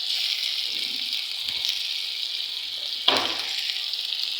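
Ground cabbage paste is added to spices frying in a pan. A steady hiss of oil runs throughout, with faint scraping, then a sudden louder sizzle burst near the end as the paste goes in. Nobody speaks.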